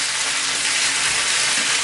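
Chicken rollatini stuffed with cheese frying in a pan to golden brown, a continuous close, loud hiss of sizzling oil, steady throughout with faint soft crackles and no voices.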